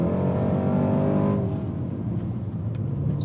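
A 2018 Range Rover Sport SVR engine revs loudly through its exhaust, a close, strong harmonic roar that cuts off after about a second and a half, leaving a lower rumble.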